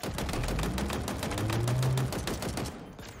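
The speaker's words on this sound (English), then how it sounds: "There's a good amount of recoil on this gun, damn." Rapid, evenly spaced automatic gunfire from a heavy-recoil gun in Halo Infinite, a dense run of sharp shots over about three seconds, loud and steady, then trailing off, with no talking.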